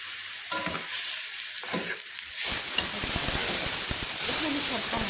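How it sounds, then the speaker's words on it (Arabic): Minced onion sautés in a pan for a zucchini tagine with meat, sizzling and hissing steadily while a utensil stirs with scraping, clattering strokes; the frying grows louder and denser partway through. "احنا مش هنحمر البصله، احنا هنشوحها"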